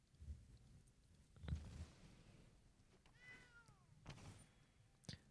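Cartoonish cat meows from a digital card game, Magic: The Gathering Arena, several short mewing calls among soft thumps and clicks, quiet and spaced out with no talk.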